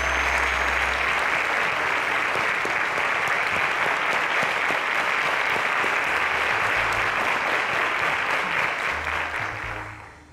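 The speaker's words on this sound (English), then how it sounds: "A round of applause to them," Studio audience on the Cowbellpedia quiz show claps for eliminated contestants, a full, dense wash of applause holding steady for about ten seconds before fading out at the end.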